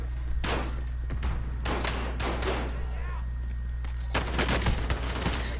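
Bursts of gunfire in the video game Warzone, several automatic volleys over a steady low game drone, moderately loud, with no clear speech.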